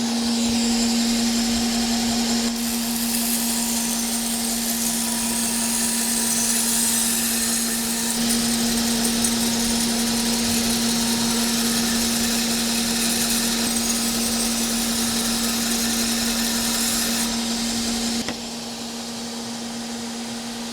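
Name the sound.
custom-built machine grinding a steel knife blank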